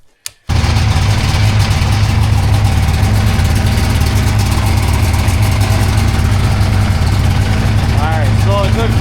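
A 1998 Ski-Doo 583 Deluxe snowmobile two-stroke engine idles steadily while warming up, a loud, close, continuous buzzy rumble that starts abruptly after a brief quiet moment and holds an even rhythm throughout.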